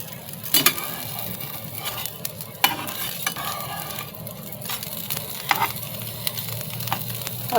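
Fresh bombil (Bombay duck) fish fry on a flat pan with a steady, crackling sizzle, broken by a few sharp pops and clatters as the pieces are handled, close and fairly loud with no talk.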